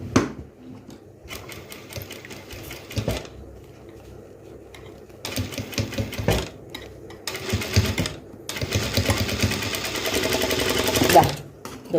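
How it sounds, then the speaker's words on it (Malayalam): A sewing machine stitches a crop top in several bursts of rapid mechanical chatter, separated by brief pauses, close up and moderately loud. "ഇനി നമുക്ക് ഇവിടെ ഒന്ന് സ്റ്റിച്ച് ചെയ്ത് കൊടുക്കാം."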